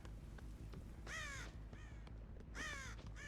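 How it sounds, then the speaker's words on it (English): Crows cawing in the horror game Dead by Daylight, two harsh drawn-out caws with a softer one between, fairly close over a constant low rumbling ambience. "I heard a crow."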